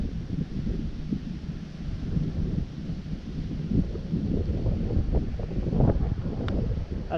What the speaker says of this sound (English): the wind is blowing from my southeast this way